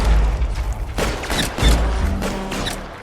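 Two sharp gunshots in a video game, loud and close, each followed by a short ringing tail over a low background rumble.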